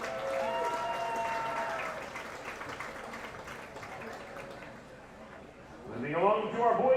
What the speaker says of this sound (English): A big round of applause for both our 2023 girls and boys golf teams.